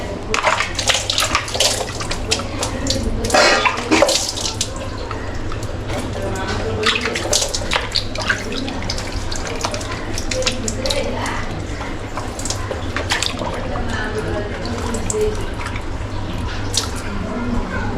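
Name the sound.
water running while washing fish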